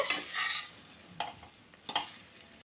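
Jowar muthiya is stirred and sautéed in a pan, with a soft sizzle beneath a few scraping strokes of a spatula against the metal, faint and close.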